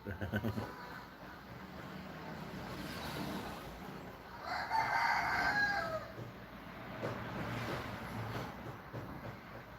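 A rooster crows at moderate distance midway through, over steady outdoor background noise with some faint clucking.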